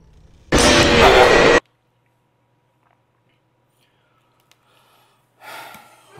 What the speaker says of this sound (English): if you hear anything, that's breathing